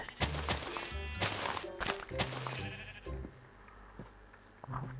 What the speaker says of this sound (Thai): แกะมันก็เยอะแถวนี้เยอะมากเลย